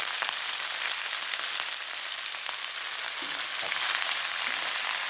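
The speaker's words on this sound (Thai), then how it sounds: "กระลำปีทอดน้ำปลาครับ ใส่น้ำปลาครับ" Fresh cabbage frying in a pan with fish sauce makes a continuous, even sizzle and crackle at close range, with no one talking.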